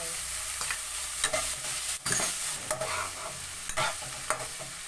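Minced pork and tomato stir-frying in a pan for tomato-sauce spaghetti, a steady hiss of sizzling with repeated scraping stirs and a few sharper spatula scrapes, close, no talking.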